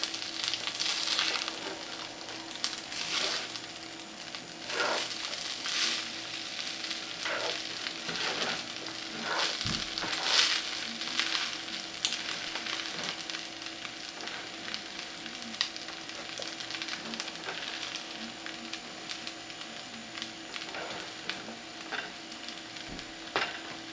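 Shrimp fried rice frying in a pan, with a continuous loud sizzle and periodic scraping stir strokes across the whole stretch and no voices.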